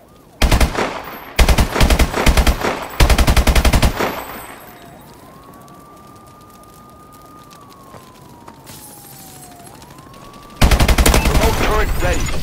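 A remote turret fires loud, rapid machine-gun bursts in Call of Duty: Advanced Warfare, three close volleys, then a lull with a rising and falling siren-like whine, before a final burst of fire.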